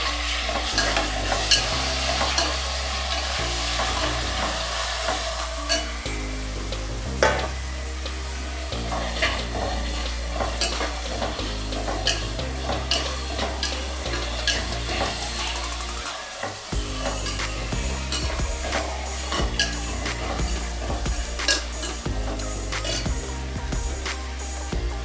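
Tomatoes frying for bagara rice, a continuous close sizzle and crackle from the pan, broken by repeated spatula stirring scrapes and light clinks of utensil against metal.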